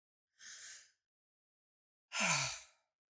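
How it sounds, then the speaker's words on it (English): A deep breath drawn in and let out: a softer airy breath, a pause, then a louder, longer sighing exhale, close and alone with no talk. "Let's take a breath right now."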